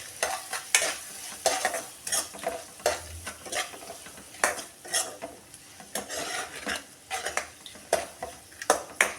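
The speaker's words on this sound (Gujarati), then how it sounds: "તેને આપણે સારી રીતે હલાવી લઈશું" Repeated scraping strokes of a spoon stirring spices (red chilli powder, coriander-cumin powder, salt) in a frying pan for masala khichdi, with a soft sizzle underneath and occasional clinks of metal on metal.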